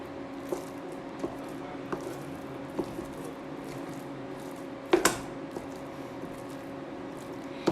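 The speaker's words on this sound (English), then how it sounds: "Give it a nice stir." A spatula stirs vegetable quesadilla filling seasoned with turmeric in a pan, making soft, wet squishing and scraping strokes at a steady, roughly regular pace, with one sharper clink midway; no one speaks.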